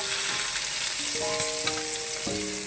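Whole spices such as cloves and cinnamon frying in hot oil for a Bengali fish-head curry, a loud steady sizzle with a few brief clinks of a spoon, close and alone.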